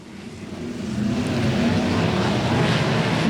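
Sprint cars roaring at the start of a Sprint Car Bandits A-Main at Golden Triangle Raceway Park, engines swelling louder as the field accelerates into a sustained, close, dense racing drone.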